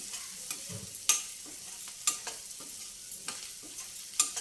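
Onion fries in a pan with a soft, steady sizzle as a utensil scrapes and taps against the metal every second or so, close but quiet.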